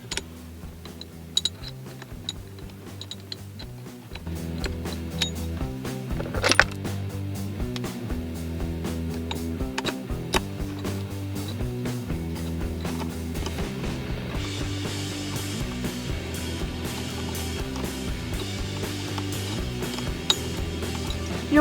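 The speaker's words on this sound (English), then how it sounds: "I'm going to take the supplied Allen bolts from Perrin and I'm going to hand thread them" Small supplied Perrin Allen bolts for a shift stop on a 2019 Subaru WRX are hand-threaded, giving a close, quiet run of ticking, clicking and scraping metal sounds over a low steady background.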